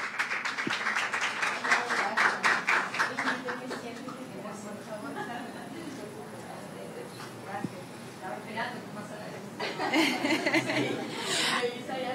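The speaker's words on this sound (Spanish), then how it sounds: "Un fuerte aplauso." Applause breaks out at a Spanish Language Day celebration as a multi-volume book set is presented. Dense clapping comes first, then fades into scattered claps, murmured chatter and light laughter from the crowd.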